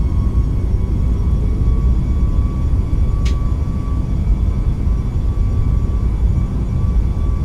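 Boeing 737 MAX 8 jet engines in a flight simulator spool up for takeoff, a steady, loud broadband roar with a constant whine running through it and one brief high chirp partway through.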